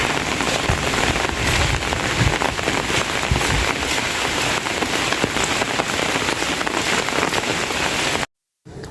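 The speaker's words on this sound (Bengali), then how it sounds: "বাহিরের বৃষ্টির রিমঝিম শব্দ" Steady rain patters outside on a rainy morning, a dense, even hiss of drops on surfaces that carries on without a break before cutting off briefly near the end.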